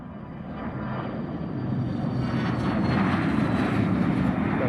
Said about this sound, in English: LearJet departure roll.